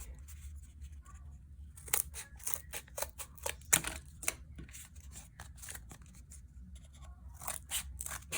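Scissors snipping out paper puzzle pieces for a homemade puzzle prototype, a close, quiet run of short crisp cuts in uneven rhythm over a low background hum.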